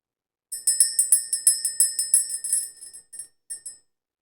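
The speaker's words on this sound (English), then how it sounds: "Let's go ahead and ring the bell" A small bell rung rapidly about a dozen times in a quick, ringing burst, then two or three slower final strikes, close and bright with no talking.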